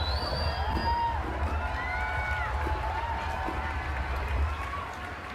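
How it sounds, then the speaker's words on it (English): A dense crowd cheering and whooping together, a sustained lively roar with scattered high shouts that fades slightly at the end. "Yeah, there it is. There's the cheering."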